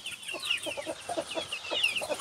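Hens cluck softly and repeatedly in a farmyard, a quiet, steady stream of short clucks and calls close by.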